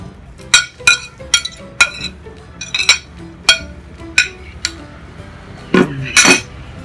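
A ladle clinks against a large pot of mì Quảng noodle soup holding about ten kilograms of meat, sharp metallic taps recurring irregularly and close, with soft stirring between them.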